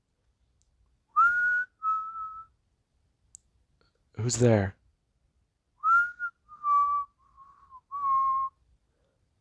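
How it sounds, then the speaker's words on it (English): Short whistled notes in a few separate phrases with pauses between, clear against silence; a voice briefly asks a question midway. "The whistling. It sounds so distant."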